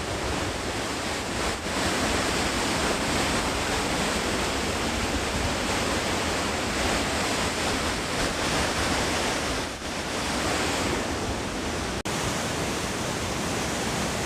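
Swallow Falls in North Wales roars steadily and loudly, a dense unbroken rush of crashing water with no voices.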